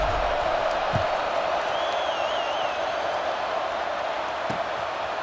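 Stadium crowd noise in the EA Sports College Football 26 video game, a steady, even murmur and hiss of a large crowd at a subdued level with a faint whistle-like tone and no clear cheers.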